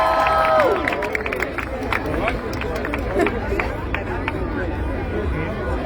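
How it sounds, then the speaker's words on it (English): Large outdoor crowd at a pro-Israel rally in Beverly Hills, California, a steady hubbub of cheering, chatter and scattered clapping, with a voice over a loudspeaker near the start. "This is such an extraordinary crowd."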